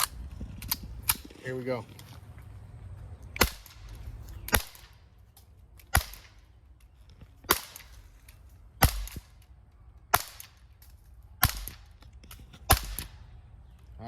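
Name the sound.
Umarex Beretta Mod 84 FS air pistol shots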